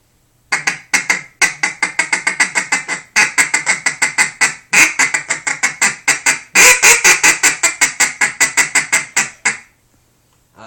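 Loud, close duck call quacking in fast rhythmic series, several runs of repeated quacks with short breaks, ending in silence.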